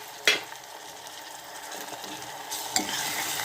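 Chopped tomatoes go into cooking pancharatna dal with a sharp clatter, followed by a soft steady sizzle and scraping stirs that rise to a brighter hiss near the end.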